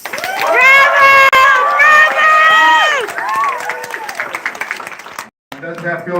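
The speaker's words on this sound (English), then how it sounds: "You see how I like the applause?" Applause and cheering rise from a live magic show audience, with loud shouts and whoops over the clapping, and a voice speaks near the end.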